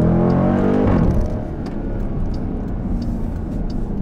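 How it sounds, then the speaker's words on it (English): A Dodge Durango SRT with a naturally aspirated V8 and 8-speed automatic growls loudly from close by, its note dropping sharply as it shifts gear, then settling into a steady rumbling drone. "ਆਵਾਜ਼ ਚੈੱਕ ਕੀਤੀ ਬਾਬੇ, ਜੋ ਮੈਂ ਗੇਅਰ ਸ਼ਿਫਟ ਕੀਤਾ ਥੋੜ੍ਹਾ ਗਰਾਊਲ ਹੋਇਆ"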